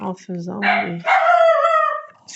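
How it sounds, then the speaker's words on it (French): A pet dog barks and yips loudly and close by in a home, several sharp calls in quick succession, with a voice talking just before. "Ah, c'est mon chien, désolé."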